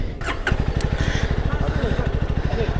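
A CFMoto 300 SR sports motorcycle, a Class 2A bike, catches after a brief crank and settles into a steady, rapid idle, close and loud, with faint voice-like sounds early on.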